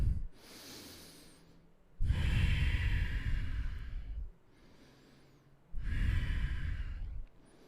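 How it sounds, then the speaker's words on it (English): Slow, deep breaths during a guided stretching exercise, three long loud inhale-exhale cycles close to the microphone with brief quiet pauses between them, no talking. "Breathe into it."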